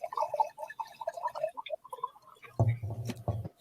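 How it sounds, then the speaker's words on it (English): Orange Vermentino wine pours into a glass in a quiet room, a gurgling liquid stream that swells near the end after a stretch of faint clinks and drips, heard up close. "the second best sound is pouring the wine"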